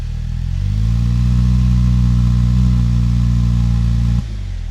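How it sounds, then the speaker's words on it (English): A Jeep engine with dual exhaust runs with a loud, steady low rumble for about four seconds, then drops abruptly to a softer idle near the end, with no talking. "Like when you turn on the car, you hear it."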